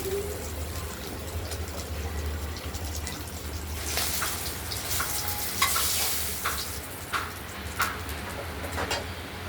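Katla (rohu-type) fish pieces frying in hot oil in a pan, giving a steady close sizzle with sharper crackles and spatters bursting out toward the end, no talking.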